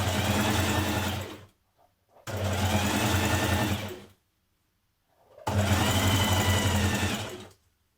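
A sewing machine runs a very small zigzag stitch along a sleeve hem in three steady bursts of about two seconds each, separated by short silences.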